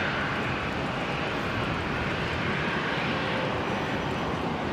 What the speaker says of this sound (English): There it is, Qantas 2547, the Dash 8 from Longreach